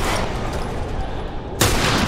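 Pistol gunshots in The Last of Us: Left Behind, a loud burst of dense gunfire filling the clip, with a sharper, brighter shot near the end.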